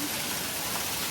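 Rain falls in a steady, even wash of hiss, dense and continuous for about a second with no other sounds.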